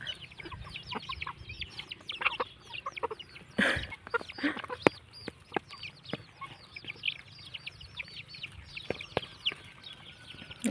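Chickens, including young laying hens, cluck softly and continuously nearby while eating duck feed, mixed with scattered sharp pecking taps and scratching, no voices.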